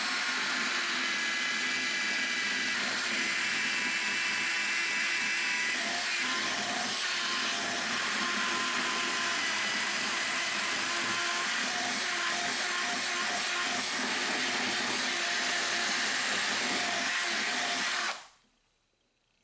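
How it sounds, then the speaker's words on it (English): Drill bits enlarging a hole in plastic during a muzzleloading rifle stock repair, a loud continuous high whirring grind that holds steady for about eighteen seconds and then cuts off abruptly. "I'm now enlarging out the hole in the plastic just to give easier access"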